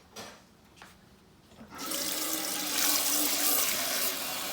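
Water from a tap rushes into a metal meat grinder being washed with dish soap, starting after a quiet moment and then running loud and steady to the end.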